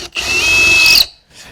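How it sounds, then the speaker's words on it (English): A power drill fitted with a small chamfer bit bevels a hole in wood for a live edge end table, a loud close whine lasting about a second with a rising pitch, then stopping. "So I just put a little chamfer bit in the drill."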